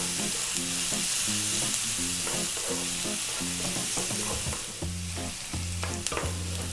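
Ginger, salt and fennel seeds fry on high heat in a pan for a potato mushroom curry, a loud, steady sizzle broken by a regular rhythm of stirring scrapes close to the microphone.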